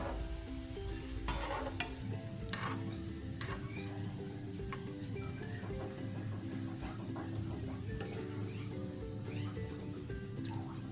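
Potato lollipops browning in a pan over a low flame give a faint, continuous sizzle with light stirring clicks, low in level under soft background sounds.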